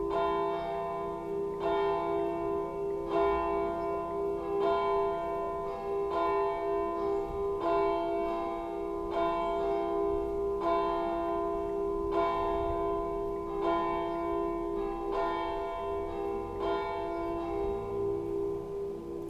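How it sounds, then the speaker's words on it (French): The church bell of a collegiate church rings noon, regular repeated strokes with a long ringing hum between them, carrying clearly from a moderate distance. "Il sonne midi."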